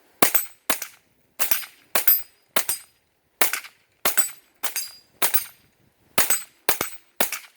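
Twelve sharp rifle shots from a Mossberg 715T outdoors, fired in an irregular string of crisp cracks with short echo tails and clean silence between them, no voices.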